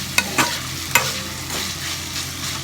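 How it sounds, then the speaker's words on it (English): Sausage and pork belly frying in a pan for jambalaya sizzle steadily up close, with a few sharp scrapes and knocks of a spoon stirring them early on, then a softer, even sizzle. "I'm stirring it so it doesn't burn to the pan and it doesn't stick"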